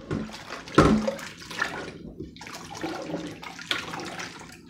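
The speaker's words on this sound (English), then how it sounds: "Let's give them a rinse." Tap water runs and splashes unevenly into a sink while strained carrots are rinsed for home canning, with uneven surges, a sharp splash near the start and short pauses between bursts, close by.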